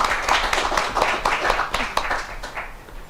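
An audience at a town hall meeting breaks into applause: steady, dense clapping from a roomful of people, moderately loud and sustained across the whole stretch.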